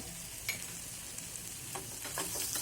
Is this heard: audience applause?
no